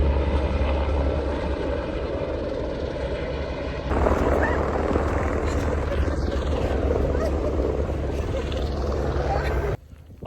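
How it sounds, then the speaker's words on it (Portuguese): A helicopter carries concrete over a cold mountain at about 1,300 metres in Norway, its steady rotor and engine drone filling the whole stretch at moderate distance. "ele está carregando concreto com o helicóptero"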